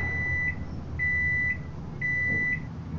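A microwave oven in a video game hums steadily while three evenly spaced high beeps sound about a second apart, faint and close with no talk.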